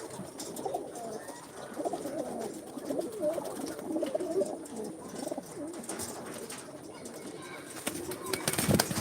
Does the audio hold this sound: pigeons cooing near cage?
yes